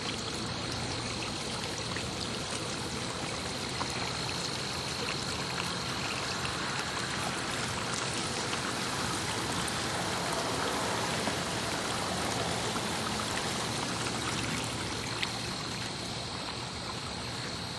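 Water runs steadily through hand-dug garden waterfalls, ponds and streams, a dense, unbroken rushing and trickling wash that holds at an even level throughout with no voices.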